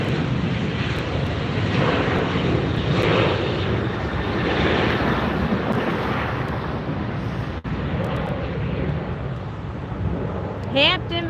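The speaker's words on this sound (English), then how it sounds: "Here we got a Delta just landing and pulling to a stop in front of us here." A Delta airliner landing and rolling to a stop at LAX, a loud, steady engine roar and rushing wind that stays close and continuous throughout, with a brief whine rising near the end.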